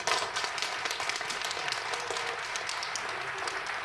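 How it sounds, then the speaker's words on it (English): A crowd claps for a fifth grade dance troupe after their performance, a fairly faint, steady patter of many hands heard from a distance, continuing evenly with no voices over it. "let's give them another round of applause"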